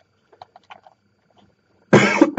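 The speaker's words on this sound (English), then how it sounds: "I really hope that's not too loud, my coughing." A single loud cough bursts out close by near the end, preceded by faint scattered rustling and near-silence, during a Spinosaurus drawing session.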